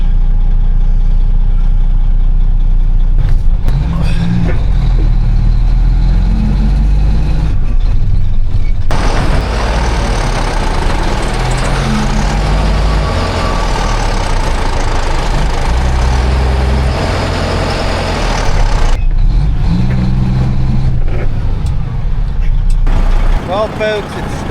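Tractors straining in deep mud while hauling a stuck manure spreader: engines idle and rev hard in long, loud surges with heavy low rumble, with someone talking over parts of it.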